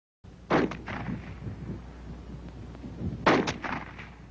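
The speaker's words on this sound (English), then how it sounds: "the M2 fires semi-automatically like the M1. In other words, one shot each time the trigger is pulled" Two loud, sharp semi-automatic gunshots from an M2 carbine, one shot per trigger pull. About three seconds separate them, and each is followed by a rumbling echo and reverberation. No one speaks.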